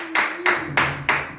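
A church congregation claps in a steady, even rhythm in praise of the Lord, with four sharp, loud claps spaced evenly over a short span and no talking.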